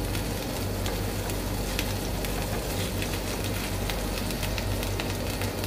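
Chapli kebabs fry in a pan over high heat, giving a steady, dense sizzle and crackle that holds evenly from start to finish, with no voices over it.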